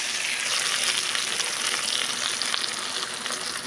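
Dried red chillies fry in hot sesame oil with a dense, steady sizzle and crackle, close and continuous throughout.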